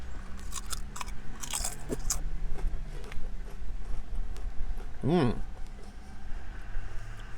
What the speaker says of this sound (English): And I gotta try here. Flamin' hot dill pickle chip.